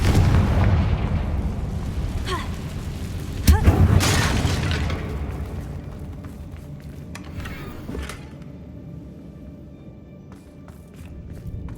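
A Confringo blast in the Hogwarts Legacy game wrecks a damaged bridge, with a loud low boom and crackling debris near the start, then a second sharp burst around four seconds that rumbles and fades into scattered cracks.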